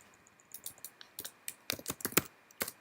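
Irregular clicking keystrokes on a computer keyboard, typed in a quiet room, with a quick burst of keys near the end, fairly close and soft.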